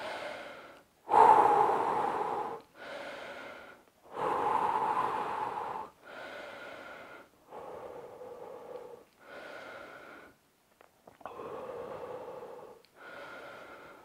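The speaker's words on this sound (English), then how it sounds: "We're gonna breathe." Heavy, deep breathing while resting after a set of jumping jacks in a home workout, long loud inhales and exhales in a slow steady rhythm, close to the microphone, roughly nine breaths in a row.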